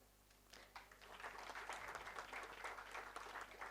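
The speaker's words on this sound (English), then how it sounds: "It's so nice to clap for your past students." A conference hall full of people applauds steadily for audiology alumni, the clapping building and holding for a few seconds.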